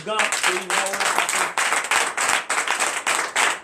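A church congregation at a Sunday worship service claps in a steady, rhythmic beat, sharp repeated claps roughly every quarter second, with singing or a voice audible at the start.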